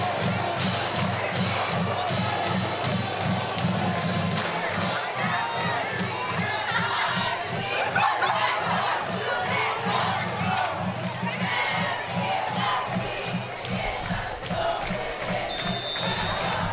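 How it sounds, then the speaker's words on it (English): A homecoming crowd cheers at a high school football rivalry game between John Glenn and Wayne. Roaring, yelling and whooping from the stands stay loud and continuous throughout, with a steady rhythmic chant pulsing underneath. "as you mentioned, Ray, this crowd is really coming alive here for this rivalry game."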